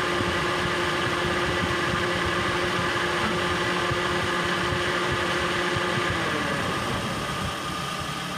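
A Daihatsu Gran Max engine idles steadily and close by, a continuous low rumble with the radiator cooling fan whirring on top of it, with no talking.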